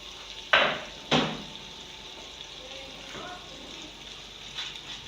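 Chopped onions fry in a pan as Nigerian fried rice with chicken is cooked, giving a soft, steady sizzle and hiss. Two sharp utensil clatters come early on, with a faint stir later, all fairly quiet and close.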